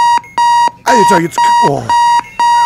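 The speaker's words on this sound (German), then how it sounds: "Jetzt tut mir dieser verfickte Wecker hier unten klingeln" An alarm clock in the bomb-defusal video game Keep Talking and Nobody Explodes rings in loud, evenly spaced beeping bursts while someone talks over some of them.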